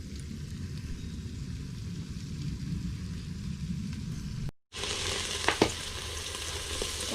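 Onion and jalapeno hit a hot pan on a Sasquatch cookstove, giving a steady, close sizzle that is briefly broken by a short gap before a brighter, louder frying hiss returns with a few sharp pops, with no voices.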